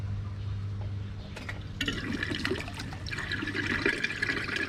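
Water begins gushing out of a koi pond pipe, a quiet hum giving way to a splashing, gurgling flow that grows fuller and continues steadily, with no one talking.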